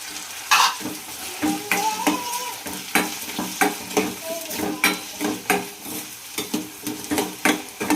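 Tomatoes cooking with ginger-garlic paste in an oiled pan for a Gujarati chavana curry, with steady sizzling under repeated close spoon-stirring scrapes and clinks against the pan.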